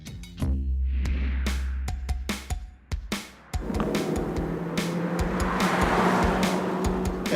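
A race car is driven hard through tight corners on a track, its engine roaring loud and close with gear changes, revs rising and falling, and some tire noise.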